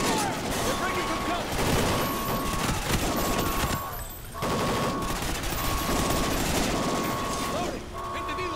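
Sustained automatic gunfire rattles in dense bursts during a Call of Duty Ghosts stealth mission firefight, with short gaps between volleys and soldiers' voices shouting amid the shooting.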